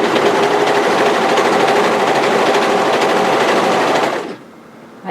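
A sewing machine runs loud and continuous, stitching a seam on a sweatshirt hoodie dress, then cuts off abruptly near the end.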